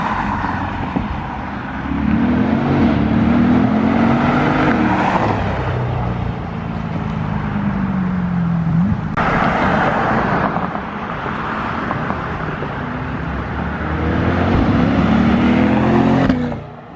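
A 2020 C8 Corvette's mid-mounted engine heard from inside the cabin while driving, rising and falling through several loud acceleration pulls with shifts between them.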